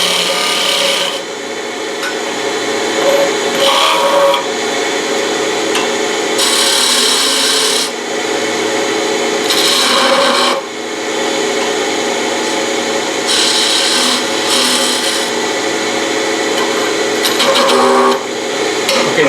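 Wood being turned on a lathe for a small workpiece without a steady rest, a steady scraping, rasping cut that swells and eases in bursts as the tool meets the spinning wood, close and continuous.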